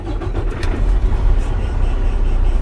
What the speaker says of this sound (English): Now that it went out, so now I turn my vehicle on.